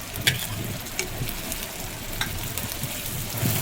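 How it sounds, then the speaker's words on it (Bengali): Garlic and onion paste frying in hot oil, a steady close crackling sizzle with a few sharp pops and occasional scraping stirs, no voices. "তেলের মধ্যে রসুন বাটা, পেঁয়াজ বাটা কষিয়ে"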